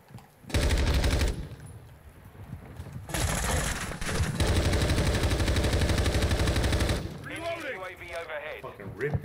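Call of Duty 2 multiplayer gunfire comes in loud sustained automatic bursts, one short and one long, followed by quieter sounds and a voice talking.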